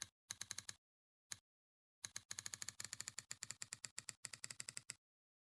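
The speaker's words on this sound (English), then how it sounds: "all the typing sounds that you hear when I actually type" Keyboard typing effects from an editing add-on play as crisp, close keystroke clicks. They come in short bursts and rapid runs, separated by moments of total silence.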